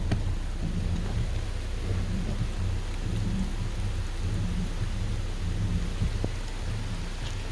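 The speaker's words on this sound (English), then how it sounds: "It's raining also." Rain falls outside at dusk near a parked car beneath a solar-powered street light, a steady, even patter with a low rumbling bed that continues unbroken, with no talking.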